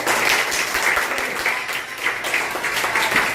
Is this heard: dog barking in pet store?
no